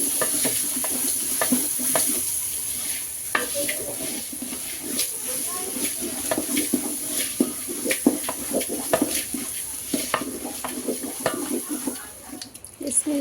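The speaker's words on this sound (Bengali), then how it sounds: "এখন নেড়ে চেড়ে ভালোভাবে চালটাকে ভাজা নেব।" Rice with salt and chopped carrot is stirred and fried in a pot, giving a steady sizzle under repeated scraping strokes of the spoon against the pot, close and continuous.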